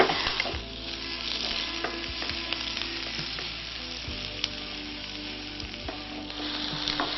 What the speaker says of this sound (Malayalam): ഇതിലേക്ക് അടുത്ത ഇഞ്ചി, ഉള്ളി, പച്ചമുളക് എല്ലാം പോട്ടെ.